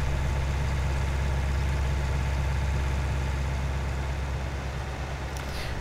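A diesel engine idles steadily in a farming video game, a constant low rumble with a heavy hum running unchanged and close throughout, with no talk over it.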